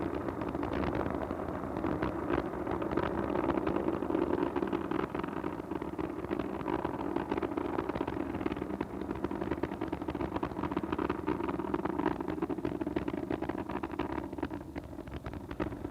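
Space Shuttle Atlantis on mission STS-44 climbs on its three main engines as they throttle back to 70 percent near maximum aerodynamic pressure, a continuous crackling rumble heard at a distance, fairly faint and unbroken, with no talk.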